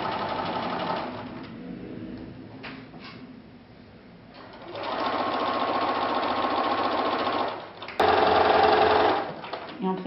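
A sewing machine stitches an invisible zip into a garment, running in steady whirring bursts with short pauses between passes, fairly close and loud, with no talk over it.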